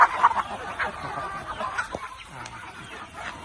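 Several black Phu Phan chickens, about five to six months old, cluck and chatter nearby in short, scattered bursts at feeding time, with faint farmyard background noise.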